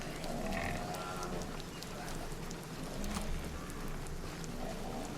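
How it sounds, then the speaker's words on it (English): Cattle lowing in the open countryside of the game Runescape Dragonwilds, several drawn-out moos rising over a steady ambient wash, with a faint clip-clop of footsteps in the mix. "Lots of cows out right now."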